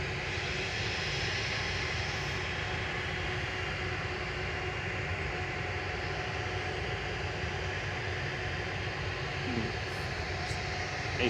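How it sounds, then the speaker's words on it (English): Ryanair Boeing 737 MAX 8200 airliner on short final into Manchester Airport, arriving from Cologne: a steady, broad engine roar holding at one level throughout, fairly near, with no talk over it. "Ryanair on short final from Cologne with flight 1592"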